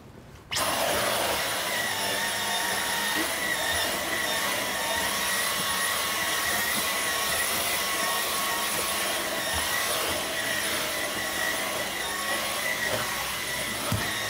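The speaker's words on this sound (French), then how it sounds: "On va mettre un petit coup d'aspirateur." A vacuum cleaner is used on a car interior. It starts abruptly and then holds a loud, steady, close whine with a broad hiss for about fourteen seconds, with no talking.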